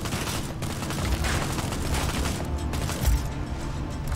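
Rapid bursts of gunfire in the video game Just Cause 4, loud and dense with booming low end, continuous over several seconds like a running firefight.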